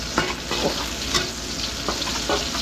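Garlic fries in a pan with a loud, dense sizzle close by, broken by a few brief stirring scrapes and clicks.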